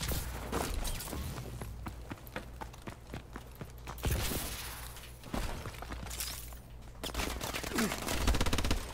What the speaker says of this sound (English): let's go back here into their spawn and set up this turret